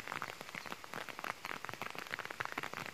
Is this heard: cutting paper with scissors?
no